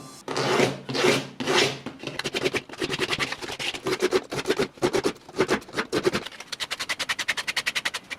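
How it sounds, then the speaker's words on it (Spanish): Rhythmic rasping of sandpaper rubbing against a wooden ring, rounding it with 80, 120 and 240 grit, strokes repeating steadily, then quickening into short, rapid back-and-forth scrapes, close and clear. "iremos dándole la forma final redondeada con la lija 80, seguida de la 120 y terminamos con la 240"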